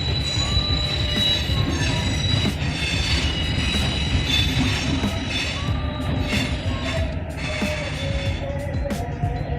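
A daily DEMU train from Gujarat's Asarva to Chittorgarh pulls into Rana Pratap Nagar station, with a steady rumble of wheels and cars, repeated metallic squeals and clanks, and a continuous loud presence throughout.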